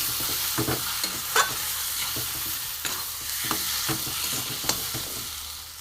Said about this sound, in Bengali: দিয়ে আমি ভালো করে এটাকে আমি কষবো।